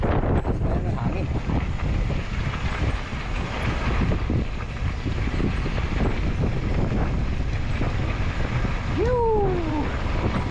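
Strong wind buffets the microphone during an e-bike ride near the Golden Gate Bridge, a constant roaring rumble throughout, with brief voices and a whistling tone near the end.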